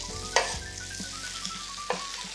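Bok choy frying in a pan for an udon noodle stir fry gives a steady close sizzle, broken by a few sharp clicks and knocks of a utensil against the pan.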